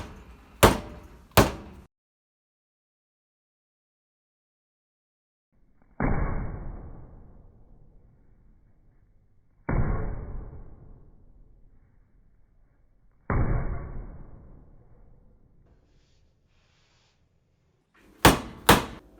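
Hardtack bread dough pounded by hand gives heavy, close thumps: two sharp hits at the start, three weightier blows spaced apart with dull trailing decay, and two more sharp hits at the end.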